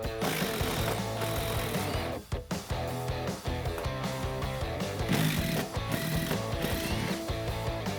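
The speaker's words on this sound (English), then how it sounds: "we'll take our T50 and remove the bolt" A T50 Torx driver ratchets out a seat bolt on a 1979-2018 Ford Mustang while Corbeau Trailcat seats are being installed, giving a steady, continuous mechanical clicking that briefly dips and then resumes.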